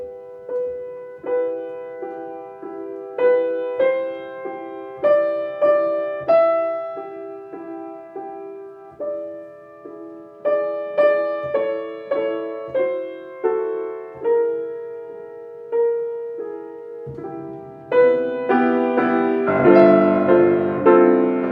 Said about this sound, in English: But Poulenc's music for this is very tender.